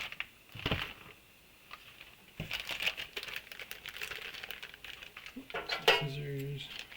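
A plastic goodie bag of parts for an Estes Mercury Redstone model rocket kit is handled and crinkled at close range, with rustling bursts, a few small clinks, and a brief tone near the end.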